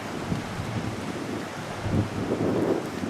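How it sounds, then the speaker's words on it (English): Atlantic waves washing onto a seaweed-strewn shore on Ireland's west coast, a steady low rumble of surf with wind buffeting the microphone and a swell building near the end. "You see a few waves."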